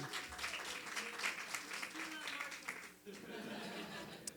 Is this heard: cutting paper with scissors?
no